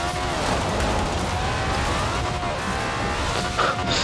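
A car drifts in the racing game Forza Horizon 4, a continuous loud engine roar blended with skidding tyre hiss that surges briefly near the end.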